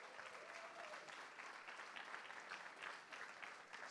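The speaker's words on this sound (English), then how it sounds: "Round of applause." An audience at a 2015 TractionForce keynote presentation gives a round of applause, a steady wash of many hands clapping at moderate distance, quiet overall, with no talk.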